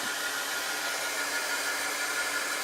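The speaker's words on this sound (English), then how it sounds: "I'm going to hit this with the heat tool again because it's not quite dry" A heat tool blows steadily, drying chalk paste on a craft transfer, a continuous close hiss and whir with no pauses and no talking.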